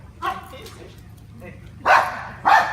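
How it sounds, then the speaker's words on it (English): A police dog barks at a suspect during a training demonstration, two loud close barks near the end after a quieter stretch with a voice talking faintly underneath. "So he's going to stand there, dog's going to bark"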